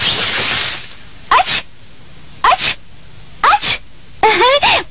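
A character in a Tamil-dubbed Doraemon cartoon sneezes in a series of short bursts with cartoonish pitch sweeps. The bursts are spaced about a second apart and sound loud and close, after a stretch of background sound at the start.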